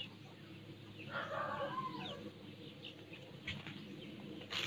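Chickens cluck in a sunny garden with newly planted flowers, a burst of near clucking and scratching sounds over a steady outdoor background.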